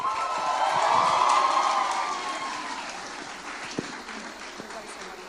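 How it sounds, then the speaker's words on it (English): Audience applause at the UWC Mahindra College graduation ceremony in 2022 starts as loud, dense clapping with some cheering and then fades slowly to a thinner patter. It is heard up close from inside the hall. "So please give a warm round of applause to the Deputy Head of College Charlotte and Head of College Dale to distribute the certificates."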